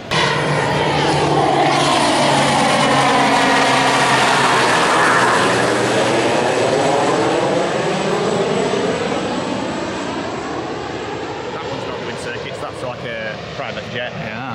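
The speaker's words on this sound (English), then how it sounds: "Aeroplane just landed." A fixed-wing airplane passes low and loud over a pier in St Petersburg, Florida, coming in to land, its engine drone sweeping in pitch as it goes by and then fading slowly into the distance.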